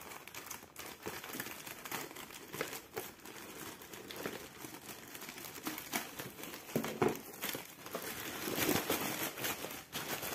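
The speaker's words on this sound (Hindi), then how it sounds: "पहले पैकेट को काट लेते हैं।" Scissors cutting open the crinkly plastic packet of an RC stunt car box, with a steady run of close crackling, rustling and snipping over about ten seconds and no talk.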